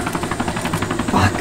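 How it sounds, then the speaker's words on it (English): Rapid gunfire from a helicopter in the video game Arma 2 rattles in quick bursts over a constant rotor and engine rumble, loud and close. "this helicopter's shooting at me"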